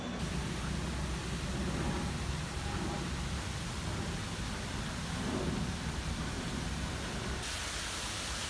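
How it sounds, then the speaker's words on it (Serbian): Heavy rain pours down on a Hong Kong street, a dense, steady hiss and low rumble that continues evenly from start to end, heard from fairly close. "sad je luda kiša"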